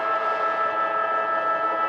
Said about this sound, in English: she's beaten by the siren.